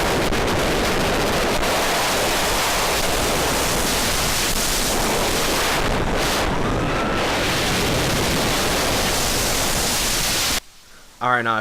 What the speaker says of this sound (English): why the POV sounds like this, it's because this is a very windy ride.